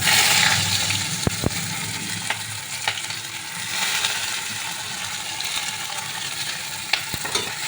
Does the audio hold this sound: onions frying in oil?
yes